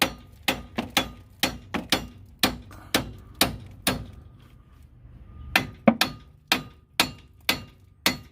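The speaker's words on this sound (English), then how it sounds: "Now I'm gonna take my mallet again and hit these posts." A mallet strikes the front strut posts on a 2000–2007 Chevy Impala during a strut replacement, giving a steady run of sharp, close metallic knocks about twice a second, with a short pause midway before the blows resume.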